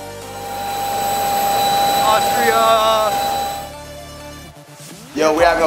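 Cabin of a private jet on a three-hour flight, with a loud steady engine roar and high whine throughout, briefly overlaid by sliding tonal sounds and ending with a voice.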